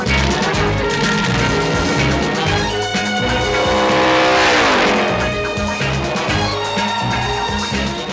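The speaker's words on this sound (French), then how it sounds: "C'est la voiture la plus rapide qui soit au monde, de 0 à 220 en 10 secondes." A very fast car races past with a loud engine roar and squealing tires, sweeping close by with a rising and fading pass over a steady, dense background.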